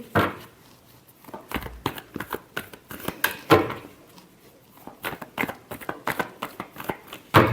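Tarot cards are shuffled in quick bursts of riffling and slapping, several rapid flurries separated by brief pauses, close and crisp with no voice over them.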